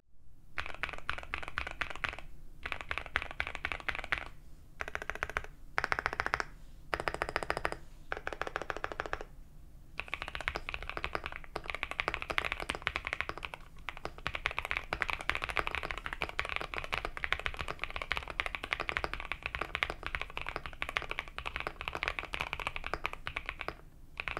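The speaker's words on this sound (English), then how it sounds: "a quick sound test of the board so that you guys can get an idea of how this keyboard sounds" Steady, rapid clacking of a CIDOO V65 mechanical keyboard being typed on up close for a long stretch, with a few brief pauses and no talking.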